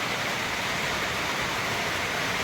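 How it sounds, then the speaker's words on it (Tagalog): Dense, steady hiss of heavy rain pouring without pause on a farm, filling the whole clip with no voices. "Pero yan, walang tigil ang ulan."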